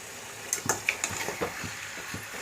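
Spoonfuls of ground cumin, chili powder and turmeric scraped and stirred through a curry pan for chicken potato curry, a few distinct clicks and soft sizzling scrapes in an irregular rhythm, close and moderately loud, with no talking.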